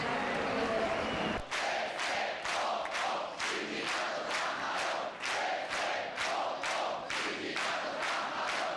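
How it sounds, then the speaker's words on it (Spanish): Crowd of union congress attendees and delegates booing a labour minister, a loud sustained roar of voices swelling in repeated waves after an abrupt start, close and dense throughout. "la titular de Empleo ha sido recibida con un sonoro abucheo por parte de los asistentes y delegados del sindicato"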